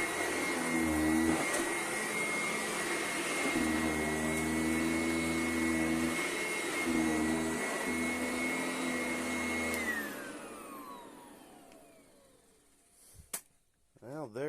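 A Sanitaire SC881 upright vacuum cleaner running on a back porch, a loud steady whine with a rumbling motor that rises and falls as it is pushed, then winds down into quiet with a few knocks at the end.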